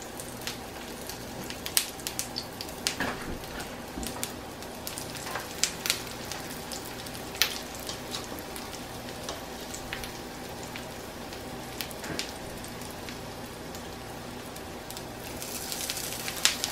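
Salmon patties and crab cakes sizzle steadily in a pan over medium to medium-high heat, with crackles and pops scattered through a continuous frying hiss, close and moderately loud with no talking.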